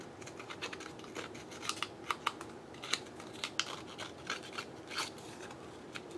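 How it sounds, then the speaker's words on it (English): Scissors cut paper for an envelope craft, giving close, crisp snips and rustling scrapes in an irregular rhythm, quiet against a soft background hiss. "I just use my scissors."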